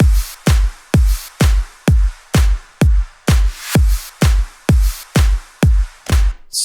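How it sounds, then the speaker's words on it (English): Electronic future-house drums in Ableton Live layered with a white noise effect: hard, regular kick hits with a hissing noise wash swelling over them, loud and close, steady rhythm with no voices. "I just added white noise basically here, and together with the drums it sounds like this"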